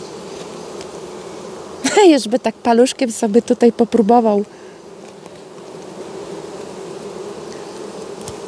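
Honeybees swarm around an open beehive, with a loud, wavering buzz surging close for a couple of seconds over a steady background hum while a person speaks nearby.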